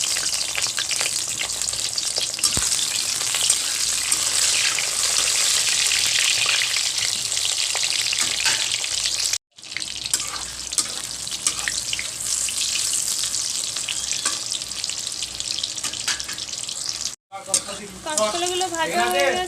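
Raw banana and bitter gourd pieces fry in hot oil for a Bengali sukto, producing a loud, close, continuous hiss and crackle, cut by two brief silent breaks, with spattering bubbles near the end.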